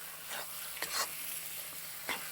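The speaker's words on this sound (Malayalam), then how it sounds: "ജിഞ്ചർ ഗാർലിക്കിൻ്റെയും ആ നന്നായിട്ട് അങ്ങോട്ട് ഇളക്കി കൊടുത്ത് നന്നായിട്ട് ചൂടാകട്ടെ." Ginger-garlic masala for an Assamese-style pork curry fries in a pan with a soft, steady sizzle, broken by three brief stirring scrapes.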